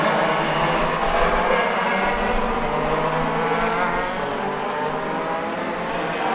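National Hot Rod race cars roar around Hednesford Hills Raceway on a lap, a loud continuous blend of engines passing close with no gaps, no voice over it.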